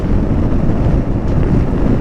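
A Royal Enfield Interceptor motorcycle cruising at around 100 km/h on a highway: constant loud wind roar buffets the microphone throughout, and the engine note is buried beneath it, with no talking.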